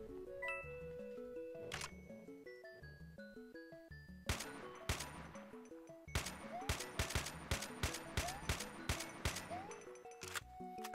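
A shotgun firing pellets in Doom: The Golden Souls 2, sharp repeated blasts in a fast, loud rhythm over bright, bouncy game music.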